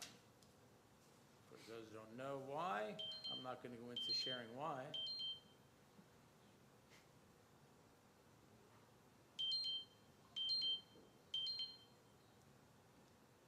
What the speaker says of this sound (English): No, hold on a second. That's my alarm.